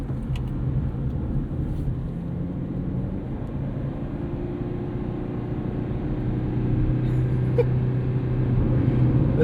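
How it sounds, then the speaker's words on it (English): Steady interior drone of a 2004 Honda Civic Hybrid braking while regenerating charge into its battery, a low hum with a faint tonal whine that swells slightly toward the end, no voices. "Coming in, charging the battery under braking."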